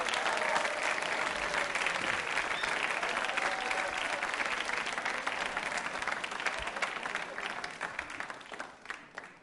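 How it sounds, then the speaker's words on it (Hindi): Sustained applause fills a quiz show hall on a Republic Day special, a dense, even patter of many hands clapping for several seconds before thinning slightly at the end. "तालियां बजाइए अपने लिए"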